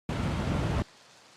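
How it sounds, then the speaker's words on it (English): A light rain loop gives a dense, steady hiss of raindrops pattering on a surface. It plays loud and even for under a second, then cuts off abruptly to a faint residual wash. "This first one is this light rain loop."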